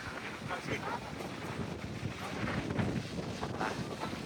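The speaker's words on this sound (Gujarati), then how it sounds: "બહુ જ પવન આવે છે, બહુ જ પવન છે." Strong wind gusts at a seaside beach batter the microphone in a continuous, loud, rumbling roar that runs unbroken throughout, with no other clear sounds over it.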